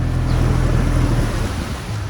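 Waves wash and slap against a boat moving through rough water, a dense, steady roar with wind buffeting the microphone throughout and no voices.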